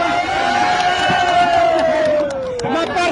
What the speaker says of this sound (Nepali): ताली बजाउनुहोस्